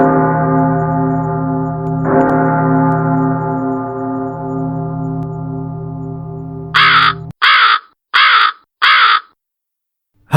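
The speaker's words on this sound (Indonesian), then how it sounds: "suara burung nyaring terdengar, membuat bulu kuduknya merinding" A loud crow-like bird cries out four times in quick harsh caws as a horror podcast effect, following a long sustained bell-like tone that rings and fades before the calls.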